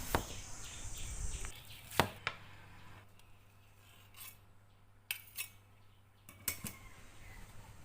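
A knife dices large red shallots on a cutting board in sparse, uneven strokes, some sharp and close, with quiet gaps and a low hum between cuts.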